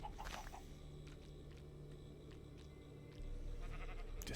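Faint sheep bleats sound in the Minecraft 1.18 Caves update, a few short calls against a steady low game background.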